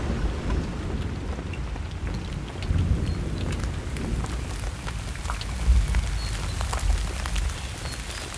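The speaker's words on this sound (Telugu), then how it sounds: "వర్షం ఎక్కువ అయ్యేలా ఉంది" Heavy rain pours down steadily in a dense, even roar, with low rumbles swelling now and then beneath the downpour; no voices.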